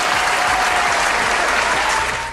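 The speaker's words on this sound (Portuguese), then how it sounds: "palmas pra ela" Loud, continuous applause, a dense wash of clapping that holds steady and tapers off near the end.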